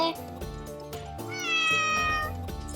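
A cat in a home garden meows several times, close and clear, the drawn-out meows overlapping with a person's voice.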